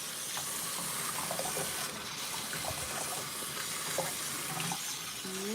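Running tap water splashes steadily over a doll as it is rinsed, a continuous close hiss with small shifting splashes and no voices.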